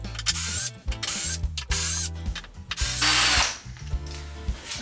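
Power drill backing screws out of the underside of a small kids' table, repeated bursts of whirring with short pauses between, close and loud with a ratcheting edge and no talk.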